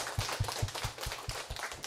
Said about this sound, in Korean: 많은 가르침 주신 스님께 박수 부탁드립니다.